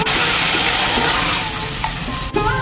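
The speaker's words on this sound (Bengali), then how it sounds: "আরেকবার ভালো করে কষবো মশলাটাকে" Ginger and spice paste fries loudly in a hot pan for a dal-style kachu dish, a dense continuous sizzle with faint scraping as it is stirred, close up and unbroken.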